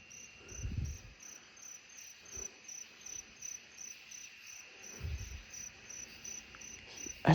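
Colombian trig crickets calling from up in a tree outdoors, a steady high continuous trilling chorus that runs unbroken throughout, fairly faint and distant, with a few low rustles and bumps nearby.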